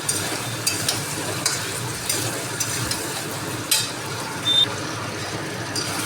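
Vegetable curry fries in a wok with a steady close sizzle, broken by repeated scraping stirs and a few louder clanks of the utensil against the pan.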